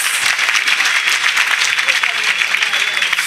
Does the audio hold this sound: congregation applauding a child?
yes